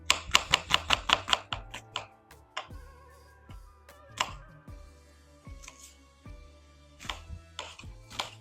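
Knife chopping red onions on a cutting board, a fast run of about ten sharp close chops at the start, then scattered single cuts and taps with pauses, no talking.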